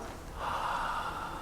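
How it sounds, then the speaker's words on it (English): A soft, breathy exhale through the mouth, steady and airy, rising slightly then holding for about a second with no speech. "Breathe out softly through the mouth, like falling."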